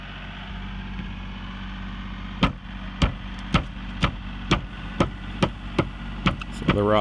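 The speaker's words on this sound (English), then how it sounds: "So I'm cutting into the siding here to see what we got going on." A tool cuts into house siding over dry-rotted framing near a concrete foundation, giving about ten sharp, evenly spaced knocks after a steady background hum, close and fairly loud.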